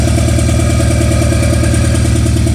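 A car engine idles loudly and close with its cylinder 4 misfiring and that injector unplugged, giving a steady, rhythmically pulsing throb with no speech.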